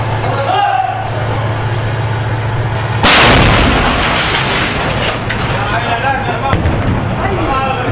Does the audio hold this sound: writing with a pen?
no